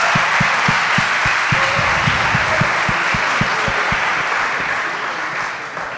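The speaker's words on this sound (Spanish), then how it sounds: "Vamos a ver, no podéis aplaudir cosas obvias." Sustained audience applause at a public debate on capitalism and commodification, loud and steady throughout with a faint rhythmic thumping underneath, tapering slightly toward the end.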